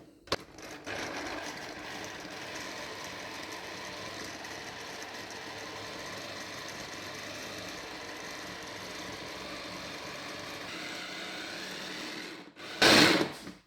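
Blender whirring steadily while mixing fresh pesto for a pizza, a continuous motor drone lasting over ten seconds before stopping, then a brief louder clatter at the end.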